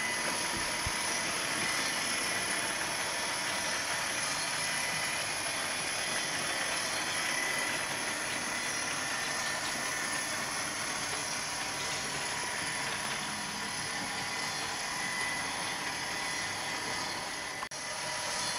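Model railway Class 57 locomotives in Compass livery run steadily along the track, giving a continuous whirring mechanical rumble with faint clicking, even and unbroken throughout with no talking.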